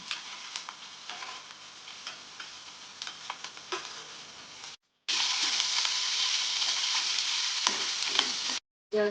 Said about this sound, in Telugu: ఇప్పుడు ఆనియన్స్, పచ్చిమిర్చి, కరివేపాకు వేసుకొని వేయించుకుందాం